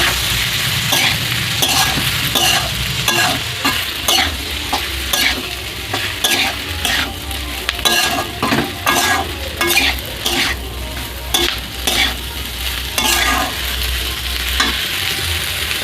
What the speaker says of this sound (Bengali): একটু নেড়ে চেড়ে নেবো হালকা জালে।